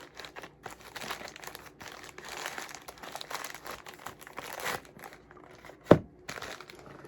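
Crinkly plastic packaging from a Diamine ink delivery being unwrapped, with steady rustling and crumpling over several seconds and one sharp crackle near the end, close up with no talk.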